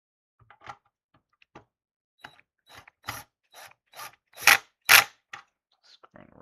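Screws are driven into a PC motherboard inside a case, making sparse, faint scraping and clicking sounds close by that build to a few louder grinding twists near the end.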